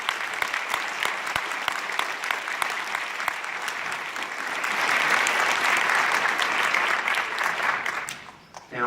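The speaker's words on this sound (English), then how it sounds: "So, big round of applause for these 13 students." Steady applause from a school concert audience for band students, a dense, continuous clapping crowd that swells slightly toward the end before fading, with no talk over it.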